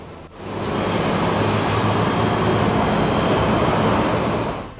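FedEx Boeing 767-300 with a landing gear malfunction coming to a stop on the runway at Los Angeles International Airport, a loud, steady roar with a faint high whine, no voices.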